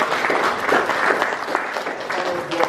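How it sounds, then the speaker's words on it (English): A crowd at an outdoor 1916 commemoration in Ballymacoda claps for the Cork County Council heritage officer, a dense, sustained ripple of applause with voices murmuring underneath. "if we all give a clap to Conor"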